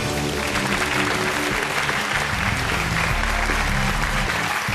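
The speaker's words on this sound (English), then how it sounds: "Round of applause for our mystery guest." Loud, sustained applause from a TV quiz show studio audience, dense clapping filling the space without pause.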